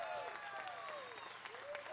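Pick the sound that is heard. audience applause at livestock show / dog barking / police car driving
audience applause at livestock show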